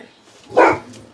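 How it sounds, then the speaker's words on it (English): A single dog bark sounds from indoors, short and moderately loud, near an open door in a quiet room, with nothing else around it. "Oh, there goes the dog."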